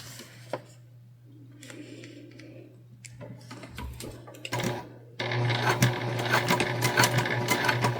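Sewing machine basting a line down on fabric, starting with a few soft stitches and pauses, then running steadily and louder with a continuous mechanical hum and ticking near the end.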